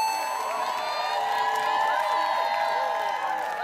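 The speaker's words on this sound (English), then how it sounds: "Come on, give him a big cheer" A large arena crowd cheers for a competitor at an Australian Ninja Warrior event, a continuous dense roar with whoops and shouts, and an announcer's voice running underneath.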